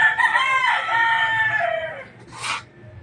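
A rooster crows loudly up close in a long drawn-out call, followed by a short sharp squawk and soft clucking from nearby chickens.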